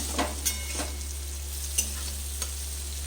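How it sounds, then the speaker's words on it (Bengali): Tomatoes frying in a pan for a vegetarian begun posto dish, a steady soft sizzle with a few sharp stirring clinks and scrapes spread across the moment, no voices. "টমেটোটাকে আমি দু মিনিট মতন ভেজে নিলাম"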